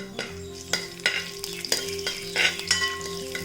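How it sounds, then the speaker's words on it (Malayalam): Chopped dried coconut frying in a pan for a beef pirattu, a steady sizzle broken by sharp, regular scrapes and clanks of a spoon stirring against the metal, close and fairly loud with no talk. "തേങ്ങ മൂത്ത് വരുന്നുണ്ട് കേട്ടോ"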